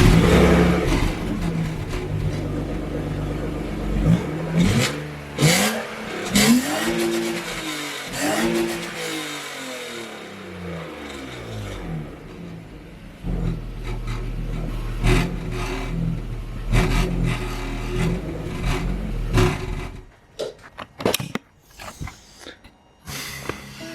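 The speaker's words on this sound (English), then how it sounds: "I will start the car so you can hear it" A BMW car engine cranks and catches, then idles and revs in rising and falling surges, loud and close, before settling into a rough idle.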